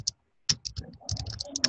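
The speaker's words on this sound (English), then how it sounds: "Okay, they're typing it seems." Typing on a computer keyboard produces quick, irregular clicks and taps at close range, bursting in uneven clusters after a brief pause, with no talk over it.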